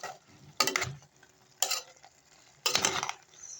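Chicken gizzard cooking in a pan, with three loud bursts of stirring and scraping rising over a quieter background sizzle, each burst lasting about half a second and spaced roughly a second apart.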